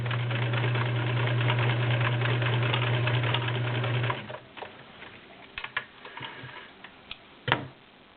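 A vintage 1941 Kenmore convertible sewing machine sews through denim with a loud, steady whirring hum and rapid ticking for about four seconds. It then stops, leaving scattered soft clicks and handling knocks close by.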